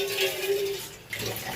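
Water running into a cooking pot for a winter fish curry with mixed vegetables and small fish, a steady faint trickle with a brief splashy burst near the end.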